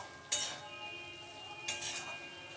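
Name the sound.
stirring potatoes and drumstick curry in a cooking pot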